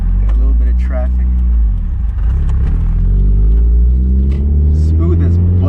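A 30-year-old manual Mazda Miata accelerating in traffic, its engine droning low and rising in pitch through the gear, close and loud inside the car while people talk over it.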